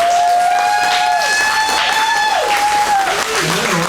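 Audience at a fan convention panel applauding its guests, steady crowd clapping throughout, overlapped by a loud whistle-like tone and a voice.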